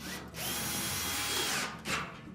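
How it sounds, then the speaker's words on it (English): A power drill drives the retaining screws on a GE washer, a close, loud whirring burst lasting over a second, then a short pause and a brief second spin. "we can then reinstall the retaining screws"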